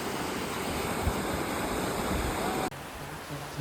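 Savatsada waterfall near Chiplun on the Mumbai–Goa highway, running low after days without rain, gives a steady broadband rush of falling water that cuts abruptly to a quieter, thinner wash near the end.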